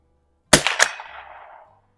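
A single sharp crack from a Stevens Springfield 87a rifle at a range where tin cans are set up as targets, followed by a quick second report and a fading echo.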